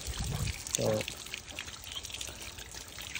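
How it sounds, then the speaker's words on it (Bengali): Water is sprayed and splashed over a dusty motorbike during a wash, making a steady, noisy rush of spray. A voice talks over it. "তো সে এখন পানি মারতেছে।"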